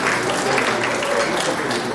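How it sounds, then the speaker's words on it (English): An audience at an awards ceremony applauds with dense, continuous clapping that fills the whole moment at a steady level, with a hint of voices mixed in. "So we can do applause again while we get it right."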